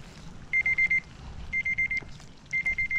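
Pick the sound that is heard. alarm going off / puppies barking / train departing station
alarm going off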